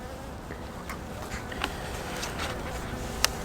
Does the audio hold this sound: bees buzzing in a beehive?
yes